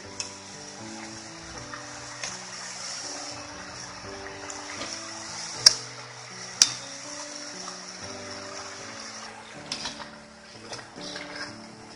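Amiti pitha, a Bangladeshi rice-flour jilapi, sizzles steadily in hot oil after being flipped, with a couple of sharp clicks and a melodic background tune playing throughout.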